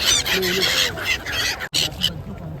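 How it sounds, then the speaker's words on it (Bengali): Birds flocking by a river calling in loud, repeated honking squawks close by, with people talking among them. "এই পাখিগুলো দেখো সুন্দর না লাগছে"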